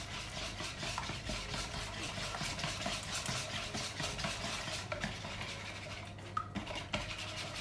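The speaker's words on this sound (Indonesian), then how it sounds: "Terus aduk rata." A utensil scrapes and rubs as sweetened condensed milk pie filling is stirred, a close, steady rhythm of soft strokes with no talking.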